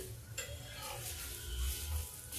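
Cooking sounds from an egg-free besan (gram flour) omelette being flipped in a pan with no oil: a soft scrape and stir of a utensil against the pan over a low sizzle, close and steady, with no talking.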